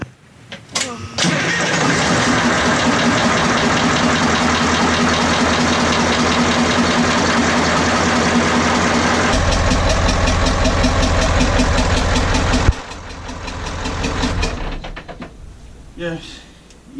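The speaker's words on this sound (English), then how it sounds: "Because if the engine is knocking" A boat's diesel engine with suspected faulty injectors cranks, starts and runs loudly with a harsh, rhythmic knocking clatter close by, rising in RPM before cutting back near the end, with brief voices at the end.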